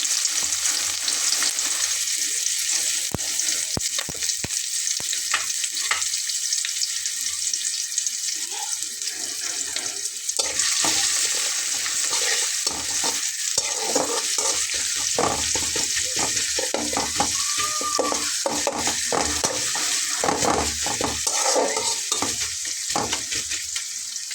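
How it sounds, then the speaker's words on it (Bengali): Chopped onions frying with cumin in a hot pan for a cauliflower fish curry, giving a steady close sizzle broken by frequent scraping and stirring strokes throughout, with no talking. "এর ভেতরে আমি আগে থেকে কুচি করে রাখা পেঁয়াজগুলো দিয়ে নেব"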